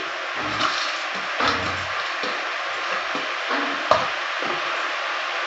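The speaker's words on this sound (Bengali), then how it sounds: "আমি এবার এই ধোয়া মুসুরির ডালটা দিয়ে দিচ্ছি" Washed red lentils go into bottle gourd in a hot pan, a continuous sizzle with repeated scraping and stirring knocks of a spoon against the pan, close up and without talk.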